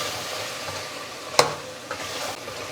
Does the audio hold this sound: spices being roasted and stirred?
yes